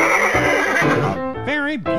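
A horse at a blacksmith's shop whinnies loudly twice near the end, a wavering rising-and-falling call following busy, noisy workshop sound and talk.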